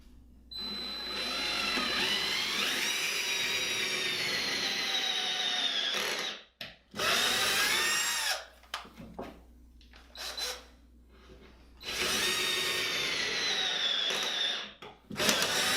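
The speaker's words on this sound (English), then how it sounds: "So we're going to be using a drill, and it says to use a 5/16 drill bit." Power drill fitted with a 5/16 bit boring into drywall, a loud close whining motor in three long runs separated by short pauses and brief scraping handling noises.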